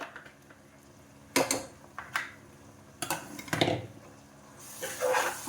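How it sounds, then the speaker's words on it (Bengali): A utensil stirs spice paste frying with browned onions in a pan for a chicken curry, making scattered metallic scrapes and clinks in irregular bursts against a quiet background. "এখন অনেকক্ষণ ধরে কষাবো মশলাটা"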